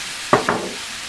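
Pork browning in a pan for mustard pan-roasted pork, a steady close sizzle with two quick clacks of a utensil against the pan.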